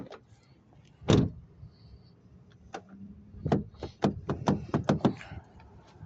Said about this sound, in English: This one you can lock by just pushing on that little black knob on the door.